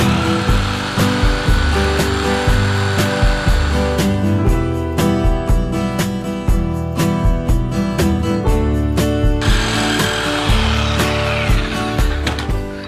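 A steel plate being cut with a power tool for a custom COE motorhome steering build: rhythmic, repeated grinding strokes with a steady metallic buzz and regular pulses, loud and close, with no speech.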